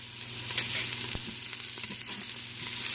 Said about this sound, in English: Going to saute this for a minute.